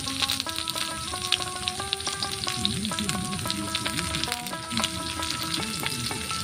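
Garlic and onion fry in hot oil in a pan while a Bengali pointed gourd dish is cooked. The steady crackling sizzle runs throughout, mixed with clinks and scrapes of stirring, with a voice talking over it.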